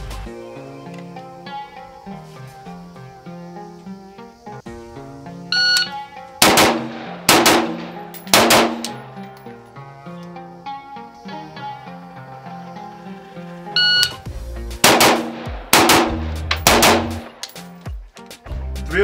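Rapid rifle shots from a Daniel Defense DDM4V7 at a shooting range, fired in two loud clusters of cracks with metallic target clangs ringing between them, close and sharp, no talking.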